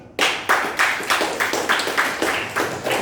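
A small group of competitors and audience at an Indonesian school quiz contest clap in a short, rhythmic burst of even claps, close and lively, about three per second.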